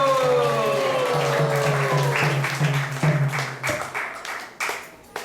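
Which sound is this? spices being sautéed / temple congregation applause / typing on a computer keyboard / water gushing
temple congregation applause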